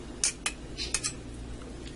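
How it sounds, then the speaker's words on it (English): Several sharp knife taps and scrapes on a cutting board as chicken is roughly cut, spaced irregularly, close by, over a low steady background hum. "I'm going to take my chicken and just give it a rough cut here."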